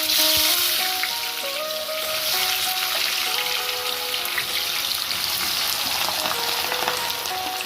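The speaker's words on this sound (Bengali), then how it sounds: "তেলটা গরম হয়ে গেছে, এবার ভাজার জন্য পেঁয়াজগুলো তেলের উপর দেবো" Sliced onions frying in hot oil for birista, a dense, steady sizzle and crackle with bright bubbling that holds loud and close for the whole stretch, with no voices over it.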